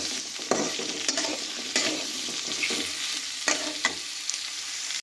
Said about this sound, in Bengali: আলুগুলো দিয়ে এবার আলুগুলোকে খুব ভালো করে ভেজে নিচ্ছি।